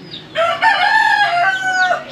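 A rooster crows loudly and close by, one long drawn-out call with wavering pitch, with other chickens faintly audible in the background.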